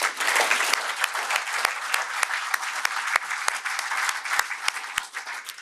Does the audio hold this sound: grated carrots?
no